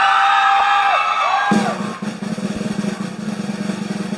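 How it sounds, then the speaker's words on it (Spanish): Crowd at a Nicaraguan contest in Tipitapa cheering and whooping for a contestant from Managua, a loud continuous roar that drops into a steady, busier wash of applause and crowd noise partway through. "¡Aplauso para la de Managua!"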